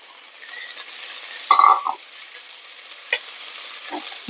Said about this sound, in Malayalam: നമ്മൾ ഈ അരിഞ്ഞു വെച്ചിരിക്കുന്ന ചീര അതിനകത്തേക്ക് ഇട്ടൊന്ന് ചെറുതായിട്ടൊന്ന് വാട്ടിയെടുക്കാം